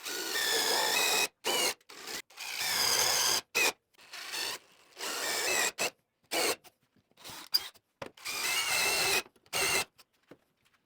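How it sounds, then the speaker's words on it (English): A one-inch spade bit drills into a wooden cleat, about an eighth of an inch deep, in a series of short bursts of whirring drill noise separated by silent pauses, close and fairly loud. "I take the spade bit, it's about 1 inch, you could do less, and I drill down about 1/8 of an inch"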